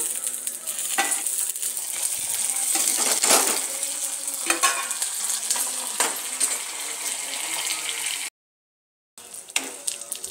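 Curry leaves hit hot oil while pulihora tempering cooks, giving a loud, steady crackling sizzle with sharp spattering pops, a brief stir-scrape, and a short silent gap near the end before the frying resumes.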